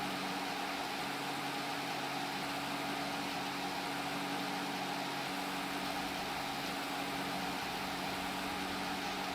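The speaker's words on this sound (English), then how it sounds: "vintage tractor limited to 18 miles an hour." Steady, droning idle of a vintage tractor engine, limited to 18 miles an hour, in Farming Simulator 25, a constant hum with noisy hiss that holds at an even level the whole time with no talk.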